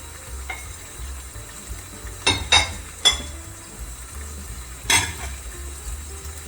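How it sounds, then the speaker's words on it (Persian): A spoon stirs rice and broken noodles together in a pot for Persian reshteh polo, a few scraping clinks against the metal over a low background hum, fairly close and fairly quiet, with no talk. "خب حتما هم بزنید که کاملا با هم دیگه برنج و رشته مخلوط بشن."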